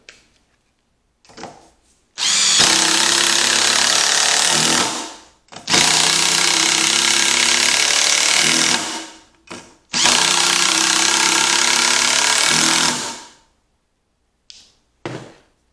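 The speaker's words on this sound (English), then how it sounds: "I'm going to drill them boom, boom, boom." A cordless 18-volt drill whirs loudly in three long bursts of a few seconds each, driving screws into wood, with short pauses between and a brief final blip.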